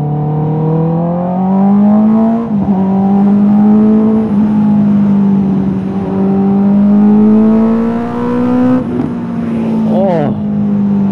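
A 2023 Honda CB650R motorcycle being ridden, its engine droning steadily and close with gentle rises and dips in pitch as the throttle shifts, and a short rev change near the end.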